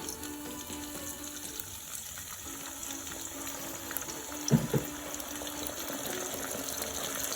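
Water pours into a pot of frying garden egg stew amid ongoing sizzling, a brief gushing splash in the middle before the steady frying hiss resumes.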